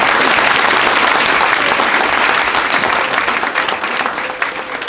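An audience at a public library's 100th anniversary ceremony applauding the library trustees, steady, full clapping from a large crowd that holds loud throughout and only slightly thins toward the end.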